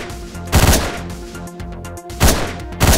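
Gunshots in the video game Hotline Miami: three loud, punchy blasts spaced apart, each with a short decaying tail, over a steady synth music bed.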